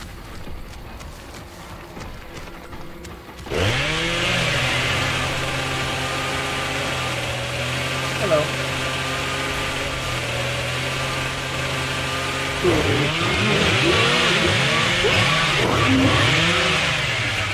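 A chainsaw in the Dead by Daylight video game snarls to life after a few seconds of quieter background. It holds a loud, steady buzzing rev, then surges again in several rising roars near the end.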